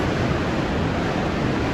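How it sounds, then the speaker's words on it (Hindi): The flooded Parvati river rages after a cloudburst, a loud, dense, continuous roar of rushing water close to the microphone with no breaks. "पार्वती नदी ने भी उग्र रूप धारण ले रखा था। ब्यास नदी में भी बहुत पानी था।"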